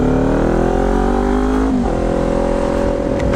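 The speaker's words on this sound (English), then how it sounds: "Now you can really hear those damn pops on this exhaust." A Kawasaki Ninja 400 motorcycle fitted with an aftermarket exhaust rides through town, its engine droning loud and close before the pitch drops as the throttle eases, with faint popping in the exhaust.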